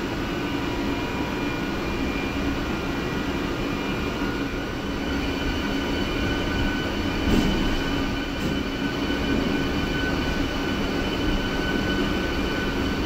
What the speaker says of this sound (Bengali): ট্রেন ঠিক 4টের সময় রওনা দিচ্ছে।